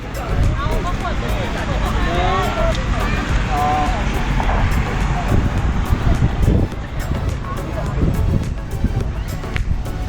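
Cold wind blowing across a mountain viewpoint at a campsite on Khao Yai, a steady rushing roar buffeting the microphone throughout, with people talking nearby underneath it.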